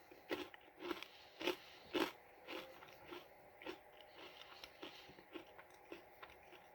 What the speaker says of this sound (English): So let's give it a chew.